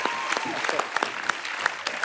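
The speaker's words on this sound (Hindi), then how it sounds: "श्रेयास के लिए एक बार जोरदार तालियां।" A studio audience on The Kapil Sharma Show, a Hindi comedy talk show, gives a burst of applause, dense clapping with sharper individual claps popping out, fairly close and continuous.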